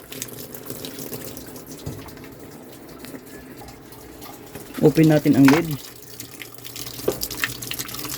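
Water running into a washing machine drum, a steady faint flow under someone talking, with a brief louder splash or clatter midway.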